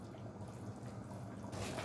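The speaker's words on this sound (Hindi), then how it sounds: "देखिए इस तरह से आपने पानी शामिल कर देना है" Water poured into a cooking pot for chana dal keema pulao, a close, steady gurgling flow that swells louder near the end, with no talking.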